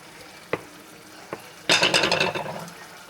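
Potatoes being stirred in a pot of cheesy fish chowder: two soft knocks of a utensil, then a dense burst of scraping, bubbling and sizzle that slowly fades, close and alone.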